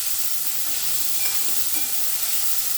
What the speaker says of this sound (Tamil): இப்போது நான் வேக வச்ச பீன்ஸு கேரட்டை இதில் சேர்த்துட்டேன்